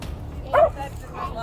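An old dog lets out a single short yip or bark in the middle, fairly faint against background noise during a tense encounter with police.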